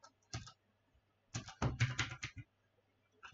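Typing VBOX on a computer keyboard: a few close, crisp key taps, one isolated press and then a quick cluster of clacks, over a quiet background.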